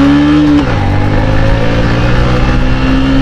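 Motorcycle engine revving hard as it accelerates in second gear after a service, a steady loud drone with a pitch drop near the start as the gear changes, then holding and slowly climbing.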